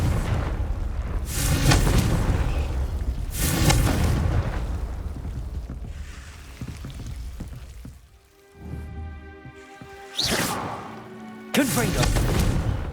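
The Confringo explosive spell going off in Hogwarts Legacy produces several loud, booming blasts separated by quieter stretches, with sharp whooshing bursts near the end.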